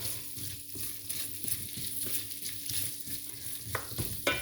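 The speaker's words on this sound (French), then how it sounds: "Dans la poêle, et tourner pour qu'ils prennent le beurre, que toutes les châtaignes prennent le beurre" Chestnuts being turned in butter in a frying pan, a continuous gentle sizzle with repeated scraping stirs and small knocks of the chestnuts against the pan, close and without talk.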